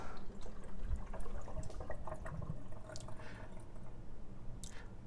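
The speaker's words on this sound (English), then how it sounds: "you'll hear a gurgle as the water moves from the reservoir into the heating chamber" A Keurig K-15 single-cup coffee maker gurgles and drips as water moves from the reservoir into the heating chamber, soft irregular bubbling and trickling heard close up and fairly quiet.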